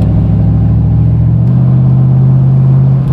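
A Lincoln Aviator fitted with 4.10 rear gears accelerates, giving a loud, steady engine drone up close. The low hum holds firm throughout, and its pitch steps up slightly partway through as the revs rise.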